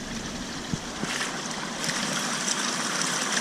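Water from six fish tanks pours into a long drain sump, a steady loud rushing and splashing flow with a few small knocks, close by and without talk.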